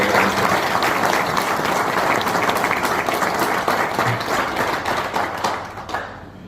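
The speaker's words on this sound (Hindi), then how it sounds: "एक बार जोरदार तालियां" Loud, dense clapping from an audience at a live session, continuous applause that gradually thins out and stops near the end.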